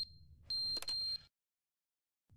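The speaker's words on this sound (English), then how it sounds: "intruder alert or something. It's not your fire alarm, guys, don't worry." Intruder alert alarm from The Stanley Parable game: a steady high electronic tone with a louder harsh buzzing burst, which cuts off abruptly into silence. No voices are heard.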